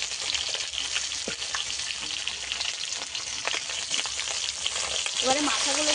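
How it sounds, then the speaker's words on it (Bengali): Hilsa fish heads fry in a pan, giving a loud, dense sizzle throughout. Occasional stirring scrapes and small pops rise above it, with no voices. "এবারে মাথাগুলোকে একটু ভালো করে ভেজে নেব।"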